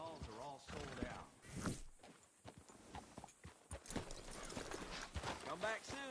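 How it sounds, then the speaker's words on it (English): Horse hooves clip-clop in the Red Dead video game, steady footfalls mixed with a whinny and other game sounds, under nearly continuous talk. "Hey, good-looking horse there."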